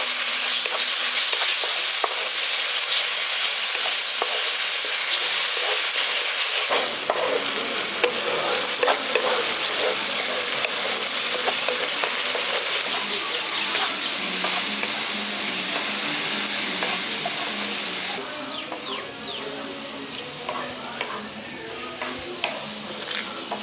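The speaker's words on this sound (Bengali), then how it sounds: "এবার মিশিয়ে দিচ্ছি ভালো করে কষিয়ে।" Soybean korma masala with crushed soaked cashew paste fries and gets stirred in a pan, a steady broadband sizzle with scraping spatula strokes throughout, louder after an abrupt shift early on and changing again near the end.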